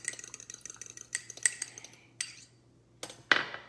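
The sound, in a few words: egg being mixed with a fork in a small bowl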